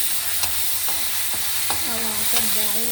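Water is added to a hot Telugu tempering (popu) of chillies and garlic, setting off a loud steady sizzle and crackle, with a few sharp taps of stirring against the pan.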